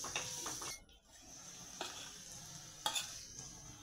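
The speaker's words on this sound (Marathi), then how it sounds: "छानपैकी आता हा कांदा मी लालसर होईपर्यंत परतणार आहे।" Chopped onions fry in a pan as a spatula stirs them for paneer bhurji, a soft sizzle broken by a few scraping strokes and metallic clinks, close but quiet, with no talking.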